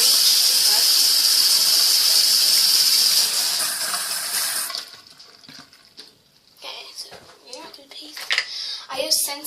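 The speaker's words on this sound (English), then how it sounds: "So I'm brushing my teeth now." Water runs from a bathroom tap during tooth brushing, a steady bright hiss for several seconds before it shuts off, followed by quiet scrubbing and clatter with a person talking.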